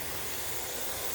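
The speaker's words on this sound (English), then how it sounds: "waiting for this stack here to spout a really nice steady stream of steam" Steam vents steadily from the stack of a pressure canner, an even, continuous hiss heard up close throughout.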